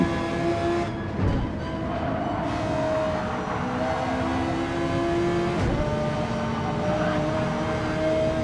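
Racing cars in a sim racing league video game, a Dodge Viper and an Audi R8 running nose to tail, engines droning and shifting pitch through gear changes, loud and continuous with no talk.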